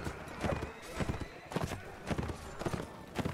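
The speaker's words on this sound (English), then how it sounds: "This horse means a lot." Horse hooves clip-clop in repeated bursts of steps during a mounted fight in Mount & Blade: Warband, fairly loud and close, with a few sharper impacts mixed into the galloping rhythm.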